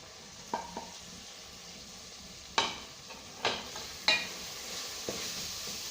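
Majboos masala, turmeric and black pepper sizzle faintly in a pan under a steady frying hiss, with a few sharp scrapes and clinks of stirring scattered through.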